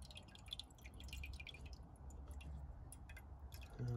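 Diesel drips and trickles from the fuel filter of a 2015 VW Passat 1.6 TDI, with close, steady wet dripping over a low background rumble.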